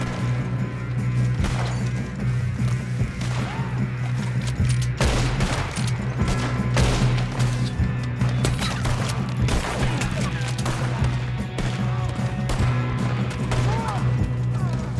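Dense gunfire from Red Dead Redemption II on PS5: a sustained fusillade of overlapping shots and sharp cracks runs loud and steady throughout, with occasional heavier impacts and possible voices mixed in under the din.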